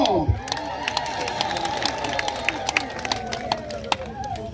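Crowd at King Misuzulu's royal wedding clapping and cheering continuously, a dense field of applause with sharp claps and shouts, fairly close.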